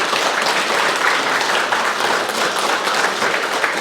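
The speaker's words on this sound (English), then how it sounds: "we'd like to take a round of applause for our beautiful judges here" An audience at the Miss Samoa NSW 2025 pageant applauds the judges, giving loud, dense, continuous clapping with no break and no voices.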